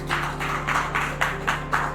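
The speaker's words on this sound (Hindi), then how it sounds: "तो एक बार जोरदार तालियां हो जाए इसके लिए" An audience at a health awareness and product training session applauds with steady, rhythmic group clapping over a constant low electrical hum, and the room is otherwise quiet.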